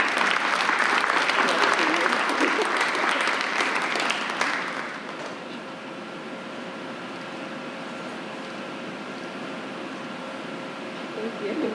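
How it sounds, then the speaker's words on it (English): An awards-ceremony audience applauds a student council award recipient, with dense clapping for about four seconds before it drops away to a quiet room hum with faint murmurs. "So please give her a round of applause."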